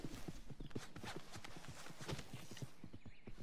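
Horse hooves clip-clop at a steady walking rhythm in the video game Red Dead Redemption 2, close and fairly loud over a continuous background bed.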